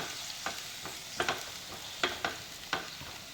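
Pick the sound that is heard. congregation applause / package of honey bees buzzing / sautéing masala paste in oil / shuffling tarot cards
sautéing masala paste in oil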